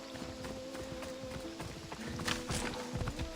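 Horse hooves galloping in Assassin's Creed Odyssey, a steady rapid clip-clop of hoofbeats over continuous game ambience and a low sustained musical tone throughout.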